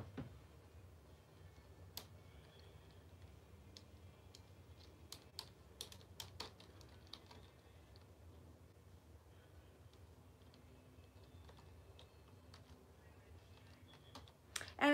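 Faint, scattered keystrokes and clicks on a computer keyboard tap along steadily at a live online purse sale, with a louder clatter at the very end and no one speaking.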